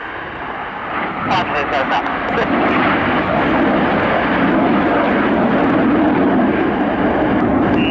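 Red Arrows BAE Hawk jets flying a display at the Royal International Air Tattoo, a loud continuous jet roar building and sustaining overhead, with a commentator talking over it.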